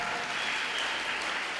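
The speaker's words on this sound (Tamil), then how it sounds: "அந்த பள்ளியை சார்ந்த அனைத்து ஆசிரியர்களுக்கும் ஒரு பலத்த கைத்தட்டல்" An audience at the closing ceremony of a state-level CBSE schools boys' kabaddi tournament applauds the school's teachers, a steady, fairly distant ripple of clapping throughout.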